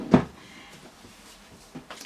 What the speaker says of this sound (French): je pense que c'est le tiroir que je préfère ouvrir